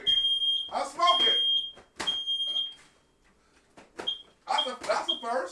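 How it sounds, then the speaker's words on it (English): An indoor smoke detector going off, high piercing beeps repeating several times in short bursts while someone talks over and between them. "The smoke detector."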